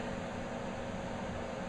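A microwave oven hums steadily as it cooks a potato, a constant near drone with no other sounds.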